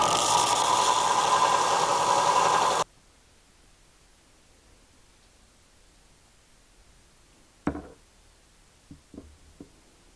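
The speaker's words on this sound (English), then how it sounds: "So I'm going to make a trip to the belt grinder now to try to shave this down to the right height." A belt grinder shaves down a metal gearbox part during a Trabant engine rebuild, giving a steady loud hissing roar for about three seconds before stopping abruptly, followed by near silence and a few faint clunks.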